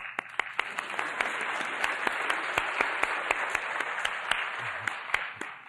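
An audience claps during a speech, a steady dense patter of hands with several sharp individual claps punctuating it close by.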